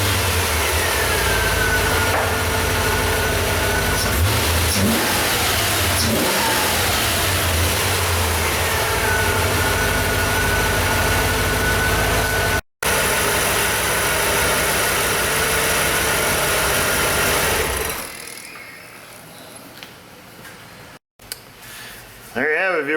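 A hot Chevy Corvette engine, fitted with eight new injectors, fires up and settles into a steady, loud idle with a continuous low rumble. It cuts off abruptly near the end.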